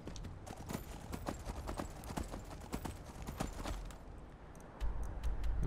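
Horse hooves in Skyrim clip-clop in a quick, steady rhythm, close and crisp, with a low rumbling layer rising toward the end.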